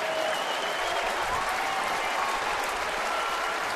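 A baseball stadium crowd at a Minnesota at Detroit game applauds steadily, a broad even wash of clapping and crowd noise with no clear breaks, moderately loud throughout.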